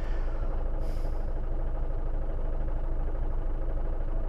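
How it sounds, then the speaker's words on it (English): Steady low rumble of a vehicle engine idling while stuck in a traffic jam, heard from inside the car as a constant near drone with no talking. "So sorry about the traffic"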